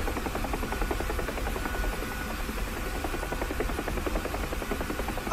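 A UH-1H Huey helicopter in the DCS combat flight simulator gives off a continuous rotor thrum and engine buzz, steady and moderately loud, with no voices.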